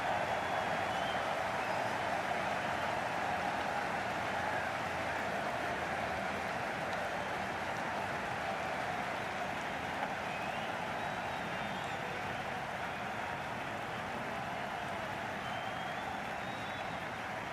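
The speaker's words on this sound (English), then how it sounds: "They will receive now the warmest of receptions from this crowd for a supreme display of batting" A stadium crowd applauds in the cricket video game Cricket 22, a broad, sustained wash of clapping and murmur that holds steady and fairly distant, with no clear voices on top.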